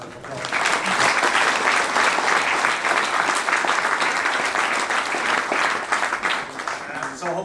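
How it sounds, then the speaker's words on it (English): A conference audience at a digital health innovation event breaks into warm, sustained applause, dense, steady clapping that fills the room for about seven seconds. "I think that deserves a really warm round of applause."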